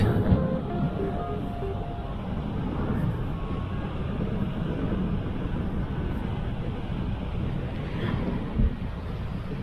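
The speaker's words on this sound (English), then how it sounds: "Look at that, rough waters, I mean for Greece anyways. Persistent wind." Rough sea surf churns along a Greek island coast under persistent wind, giving a constant broad roar with gusty buffeting over the microphone and no voices throughout.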